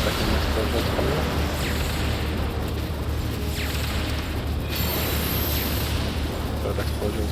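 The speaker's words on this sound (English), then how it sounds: "Third explosions coming up." Booming blasts during a Final Fantasy XIV Endwalker raid, The Omega Protocol: a dense, steady roar of explosions and game effects with repeated heavy hits, and a voice talking faintly underneath.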